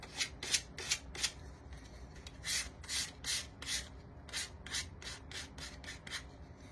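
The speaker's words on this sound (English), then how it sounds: "I kind of sand the edges to give it a little worn look." Sandpaper rasps in quick, rhythmic strokes along the edges of a Dollar Tree box pumpkin, a dozen or so close, fairly soft scrubbing passes with no talking.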